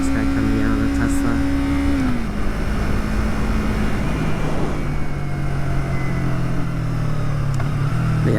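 A motorcycle engine is rev matched through downshifts on a city street. A close, continuous engine drone steps down in pitch a couple of times under steady road and wind noise.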